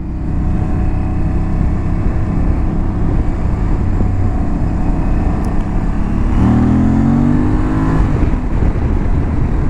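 Aprilia Tuareg 660 motorcycle engine on a test ride, a loud, continuous engine drone with rising revs and a gear change partway through, heavy wind noise throughout and no talking.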